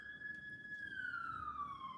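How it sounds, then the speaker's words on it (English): An emergency vehicle's siren wails outside, a steady high tone that slowly slides downward in pitch, continuous and moderately loud over a faint low background hum. "as we hear the sirens"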